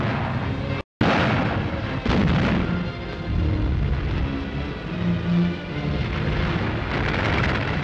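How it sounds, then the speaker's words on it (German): German heavy artillery and tank artillery fire on attacking Soviet tanks on the Eastern Front, a loud, dense rumble of booms and blasts that continues throughout with a brief dropout near the start. "Deutsche Artillerie stärkerer Kaliber und Panzerartillerie beschießen angreifende Sowjetpanzer."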